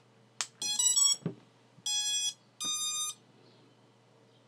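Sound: BlHeli_S ESC startup tones when quadcopter battery plugged in

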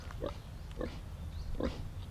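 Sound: pig being washed in the Philippines

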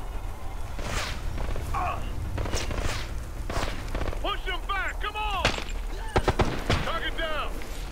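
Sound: gunfire in a video game

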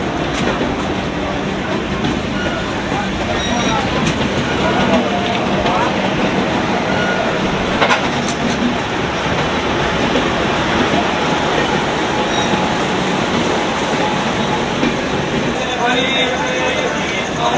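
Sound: Sabarmati Express train running between Ayodhya and Varanasi

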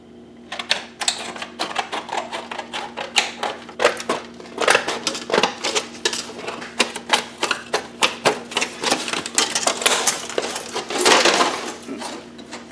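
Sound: cutting a long strip from a chunk of aluminum

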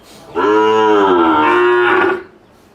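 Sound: Sahiwal cow mooing

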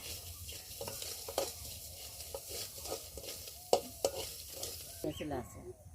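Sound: green chilies frying in oil

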